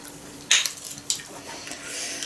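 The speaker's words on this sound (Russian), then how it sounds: "Сейчас этой ложкой с дырками тут придолблю" A slotted spoon mashes and knocks in a bowl while oatmeal cookies with coconut sugar are being made, giving a couple of sharp metallic clinks followed by softer scraping and tapping sounds close by.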